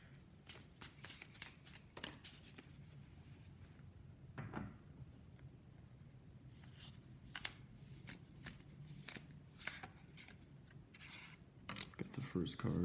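Tarot cards shuffled and handled during a pick-a-card reading, a steady run of crisp riffling and sliding card sounds, close and fairly quiet, with brief pauses and a soft voice now and then.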